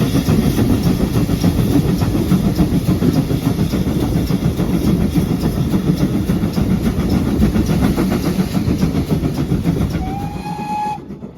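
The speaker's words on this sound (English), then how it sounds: "up Goodrington Bank now, a steep climb, but light work for the engine" A heritage railway engine labours up the steep Goodrington Bank, its loud rhythmic chuffing and rumbling wheels continuous and close, with a brief whistle sounding near the end as the noise eases.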